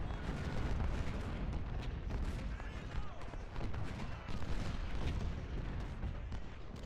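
Artillery in the Civil War battle game Ultimate General: Civil War fires in a quiet, continuous barrage of dull distant booms and rumbling bursts layered over one another.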